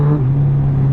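Superbike engine idling or revving steadily at close range, a strong low hum holding even through the short moment with no voices.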